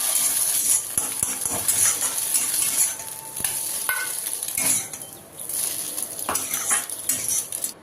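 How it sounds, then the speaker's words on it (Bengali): An egg frying in a little oil in a pan, with steady sizzling throughout, loud and close, and scattered clinks and scrapes of a utensil stirring against the pan. "প্রথমে আমি ডিমটাকে ভেজে নেব অল্প তেলে"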